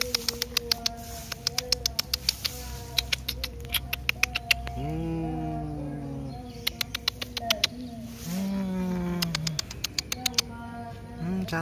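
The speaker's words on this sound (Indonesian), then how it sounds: "Kucing liar yang sangat cantik." A feral cat gives a few drawn-out meows close by, separated by pauses, while sharp rapid ticking clicks come and go around it.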